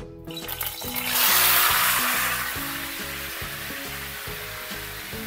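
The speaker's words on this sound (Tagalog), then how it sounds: "i-fry lang natin bagya itong minarinade nating kasim" Marinated pork kasim hits a hot pan and a close, loud sizzle swells in about a second, then settles into a steady crackling hiss.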